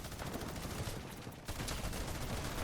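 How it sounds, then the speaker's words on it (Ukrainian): Dense, continuous rapid gunfire in the video game Fortnite crackles throughout, with a brief dip in the middle before the shooting resumes at full intensity. "Це я по тобі стріляю."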